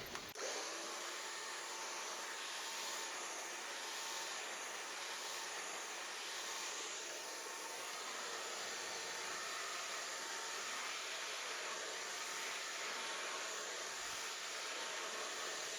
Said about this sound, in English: following with the hairdryer